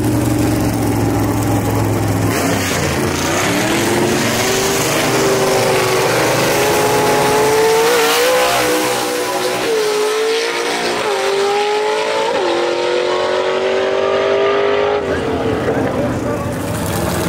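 Gasser drag racing cars at Gulfport Dragway, an AFX-class car among them, roar loudly with rising engine pitch over several gear changes, a continuous near engine howl beneath a commentator talking throughout.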